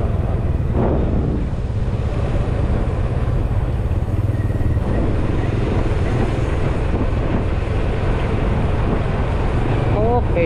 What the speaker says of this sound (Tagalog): Ala, umandar na yung ating makina.